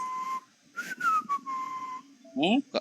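A person whistles a short, wavering melody at moderate volume, with a few brief voice sounds near the end.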